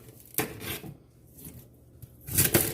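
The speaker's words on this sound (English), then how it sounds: "go ahead and get you a good knife and start chopping" A good kitchen knife chopping celery for homemade chicken soup, giving a few separate sharp knocks of blade on board with short pauses between them, then a louder cluster of cuts near the end, close up.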